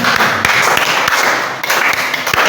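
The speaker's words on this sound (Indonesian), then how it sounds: "tepuk tangan kita semuanya" A classroom of children gives a short burst of applause, brisk scattered claps close by for a couple of seconds.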